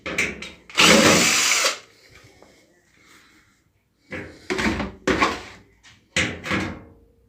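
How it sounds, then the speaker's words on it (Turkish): A cordless drill unscrews screws from an Arçelik washing machine panel: one long whirring burst, a quiet pause, then three or four shorter bursts, loud and close. "şarjlı matkaptan veya tornavidadan yardım alabilirsiniz"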